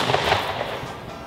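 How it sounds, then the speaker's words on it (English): A potato launcher loaded with clear slime fires with a loud, broad blast that rings out and slowly decays over about a second. "potato launchers are super loud if loaded with clear slime"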